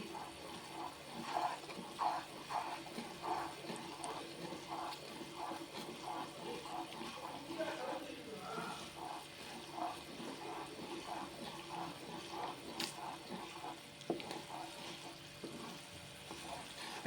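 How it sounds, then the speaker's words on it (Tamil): A pot of jaggery water bubbles and sizzles steadily at a rolling boil, with a continuous crackling texture and no voices. "வெள்ளம் நல்லா கொதிக்குதுங்க தண்ணி"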